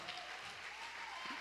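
Church congregation applauding together, a steady even patter of many hands sustained throughout, fairly faint and heard from a distance.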